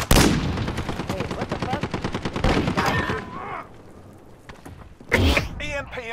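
Rapid automatic gunfire in Call of Duty: Modern Warfare, a loud close burst of rattling shots at the start, then more firing and a final sharp burst, with game noise and voices mixed in.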